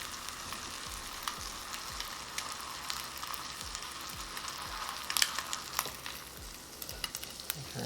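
A California sheephead fillet fries skin side down in butter under a ceramic plate weight, giving a quiet, continuous sizzle dotted with small pops and spits throughout.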